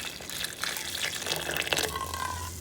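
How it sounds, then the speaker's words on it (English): Hot liquid is poured into warmed canning jars, a gushing, splashing stream with clinks and shifting pitch as the jars fill, close and fairly loud. "now I'm in the process of filling the jars."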